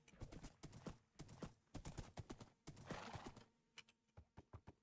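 In modded Minecraft, a ridden horse's hooves clip-clop in quick, uneven clusters of close, crisp knocks, with a brief soft whinny partway through.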